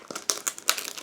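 Crinkling of a plastic bag holding decal sheets and photo-etched parts from a 1/48 scale aircraft model kit, a few quick close crackles over about a second.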